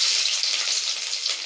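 Garlic dropped into hot oil already holding mustard seeds and cumin, giving a steady, close, bright sizzle and crackle that holds evenly throughout with no voices.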